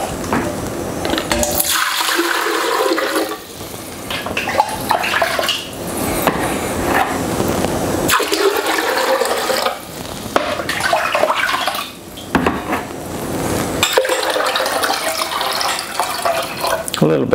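Roughly four litres of liquid wash poured from a jug into a spirit still, a steady broadband gush of splashing liquid that pauses briefly a few times and then resumes, close and fairly loud.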